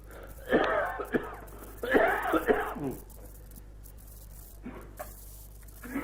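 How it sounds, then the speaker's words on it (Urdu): Someone coughs and clears their throat in a few harsh bursts, followed by quieter breathing and faint background hum. "میں آج بولا نہیں جاتا کھانسی کی وجہ سے"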